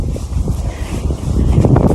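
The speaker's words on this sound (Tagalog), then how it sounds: "Malakas ang hangin ngayon." Strong wind buffets the microphone on a farm field with low, rumbling gusts that swell and fade, close and loud, with no one speaking.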